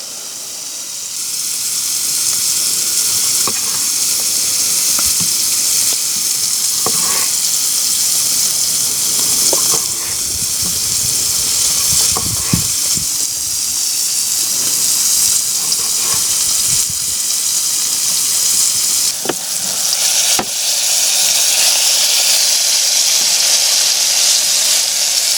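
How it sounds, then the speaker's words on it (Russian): Pork fat (salo) melting in a pan over a campfire in a riverside forest at night, giving a steady loud sizzling hiss throughout with a few crackles and clicks. "Пока сальце топится"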